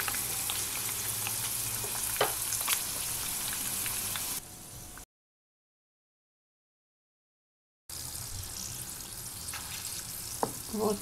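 Pork rind sizzles and crackles in rendered fat in an uncovered frying pan. The spattering is dense and steady and close by, drops out completely for a few seconds, then returns just as busy.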